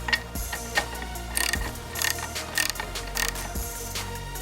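A half-inch ratchet socket tightening the hex head of a Dimide clamp, clicking in several quick bursts of ratcheting with short pauses between strokes, close and clear with no talking.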